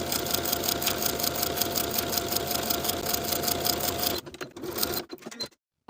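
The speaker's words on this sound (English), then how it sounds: "Sew each side seam and the shoulder seams with a 1/4 inch seam allowance." A sewing machine runs fast and steady while stitching the side and shoulder seams of a racerback tank top, then stops with a few short bursts and handling noises before going quiet.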